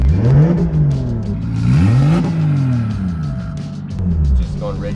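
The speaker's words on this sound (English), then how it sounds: "Can you rev now without it trying to cut you?" A turbocharged Toyota Supra, an eBay turbo kit on a naturally aspirated engine, revs up and down repeatedly nearby, the engine note rising and falling in several pulls while people talk over it.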